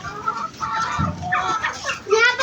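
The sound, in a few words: chickens clucking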